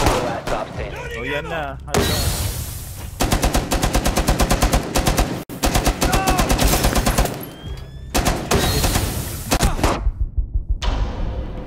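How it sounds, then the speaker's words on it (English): Bursts of rapid mounted LMG fire in Rainbow Six Siege rattle loudly in long sustained strings with brief pauses between them, while players talk over the shooting. "May mounted LMG."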